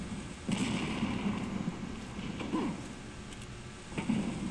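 A few booming video game explosions in Resident Evil 4 with crackling debris, fairly loud, spaced across the clip over a busy background rumble.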